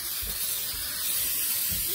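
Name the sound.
spraying canola oil onto a cupcake pan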